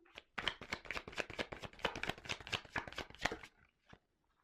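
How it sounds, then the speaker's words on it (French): A card drawn from a deck during a card reading, giving a quick run of soft rapid flicks and riffles, close and quiet, ending in near silence. "je prends encore une carte"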